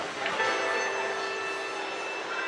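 A Walt Disney World Railroad train at Magic Kingdom gives a steady mechanical rumble with a sustained tonal whine and a hiss of steam or brakes. It stays fairly constant throughout at moderate distance, with no talk.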